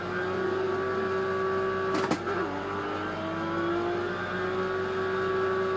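A car engine pulls hard and steady while driving, a loud sustained tonal drone that slides in pitch through a gear change midway, with no talking over it.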